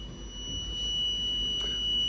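Continuous high-pitched electronic tone from the buzzer of a Vinytics LPC1768 development trainer kit, sounding steadily and fairly loud throughout with no speech.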